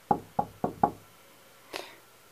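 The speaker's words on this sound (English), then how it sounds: "It sounded like a knock." Four sharp knocks on a door in quick, even succession, then a pause and a single softer, duller knock; isolated in a quiet room with no talk.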